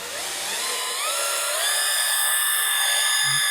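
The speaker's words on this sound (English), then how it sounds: "you're going to want to hold on to the drill for control" A high whirring drill sands a foggy plastic Volkswagen headlight, running continuously, its pitch shifting slightly as it grinds against the surface, loud and close with no talking.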